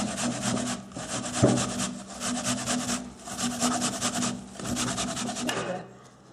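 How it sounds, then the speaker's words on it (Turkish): An apple is grated on the fine side of a hand grater, a continuous close rasping scrape in quick repeated strokes, moderately loud, with no talking. "Şimdi rendenin ince kenarıyla rendeliyoruz."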